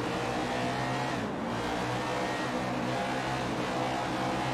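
A NASCAR race car engine heard from cockpit view in the video game NASCAR 21 Ignition at Phoenix drones loud and constant, with a steady rumbling hum and small shifts in pitch, and no voices.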